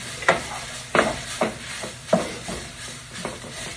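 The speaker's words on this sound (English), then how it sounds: "We're just gonna keep on mixing, getting those onions to become translucent." Onions frying in a pot for slumgullion, stirred with a utensil that makes several distinct scraping strokes over a soft, steady sizzle.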